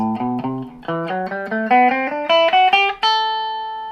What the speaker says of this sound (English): that led into the A Dorian mode